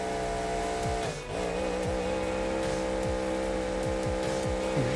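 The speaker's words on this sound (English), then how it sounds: "He's really revving the engine out here." A monster truck engine in BeamNG.Drive revs with a steady, loud drone, its pitch dipping and climbing in repeated surges as the throttle is worked, with no talk over it.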